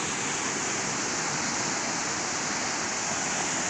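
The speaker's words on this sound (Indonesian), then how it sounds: "kedengaran suara arus air yang begitu deras, guys, dari hulu sungai ini" Water rushing hard down a river from a collapsed dam embankment, a steady loud broadband roar with no pauses, filling the whole scene with no voices.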